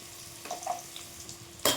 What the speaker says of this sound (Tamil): கடுகு பொரியுது, கருவேப்பிலை போட்டுக்கலாம். பச்சை மிளகாய் போட்டுக்கலாம். நறுக்கி வச்ச வெங்காயத்தை போட்டுக்கலாம்.